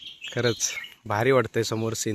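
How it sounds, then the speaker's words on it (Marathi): Birds chirp at dawn in the Konkan countryside on a rainy-season morning, faint intermittent high calls in the background beneath a man's close, continuous talk. "हा पक्ष्यांचा किलबिलाट"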